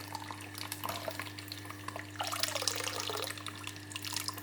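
Water runs from a tap into a sample container for a water quality check, a continuous splashing flow under a steady low electrical hum, growing a little brighter and fuller partway through.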